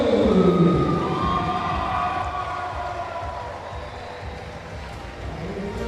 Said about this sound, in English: You can hear the crowd cheering on for Team Allianz.